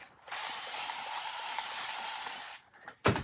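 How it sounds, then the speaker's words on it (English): An aerosol spray can hisses in one steady burst lasting over two seconds as it coats the back of a Peanuts Snoopy Halloween doghouse craft kit, followed by a brief rustle and knock. "I'm going to spray the back."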